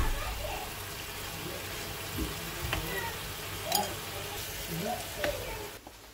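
Cumin and coriander paste hitting a hot pan and frying with a steady, busy sizzle, broken by a few sharp clicks and scrapes from stirring.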